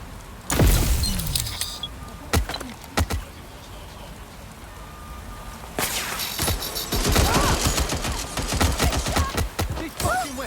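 Bursts of gunfire in the video game Watch Dogs Legion, sharp shots and rapid volleys cracking out loud and close, mixed with rain and vehicle noise, with short pauses between the clusters of fire.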